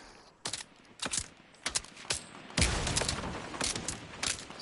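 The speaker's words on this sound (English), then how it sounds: "Stop shooting at me." Rapid video-game gunfire from a John Wick-themed level, sharp bursts and single shots in irregular clusters, loud and close, with a denser sustained volley midway.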